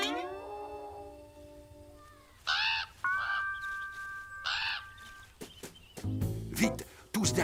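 In a cartoon, a bird near a scarecrow gives two or three short, harsh squawking caws, mixed in with animated voices and background music.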